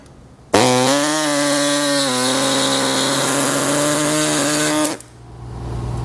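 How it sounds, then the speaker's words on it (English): A small reciprocating saw cuts through bumper beam brackets on a 2016 Buick Envision, a loud, close, buzzing whine that starts abruptly, holds steady for about four seconds with a slight pitch dip, then stops. "We're going to be using a small reciprocating saw for ours."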